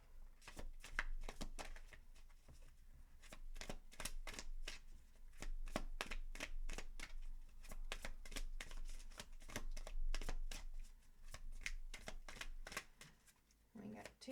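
Moonology oracle cards being shuffled in a steady run of crisp riffles and flicks lasting the whole stretch, close and fairly loud, with a faint low hum beneath.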